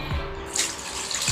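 Water poured from a glass into a cooking pot holding oregano leaves, a short splashing burst heard up close with no talk.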